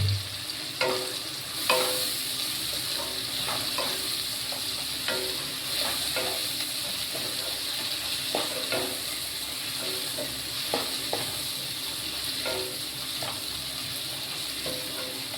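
Fish frying in oil in a pan, with constant sizzling, repeated scraping and clicking strokes of stirring, and crackles that stay close and even throughout.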